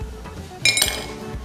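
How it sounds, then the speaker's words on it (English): Ice clinking into a tall glass for agbalumo juice: a bright burst of glassy clinks and rattles midway, close by, with no talking. "We'll be adding ice"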